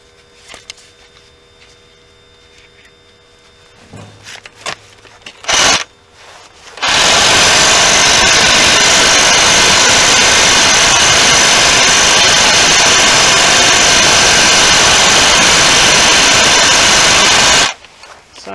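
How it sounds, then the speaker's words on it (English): Reciprocating saw cutting out brick and training mortar joints beneath a stretcher during brickwork on a Gothic arch. It starts with a short burst, then runs loud and continuous for about eleven seconds before stopping abruptly. "So the way I'm gonna do that is with my recip."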